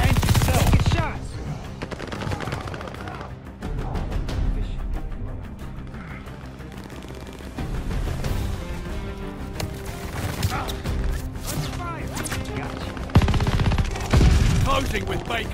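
Gunfire in a Call of Duty: Vanguard Domination match: rapid machine-gun bursts and scattered single shots rattle close by without pause, with short loud flurries at the start and the end.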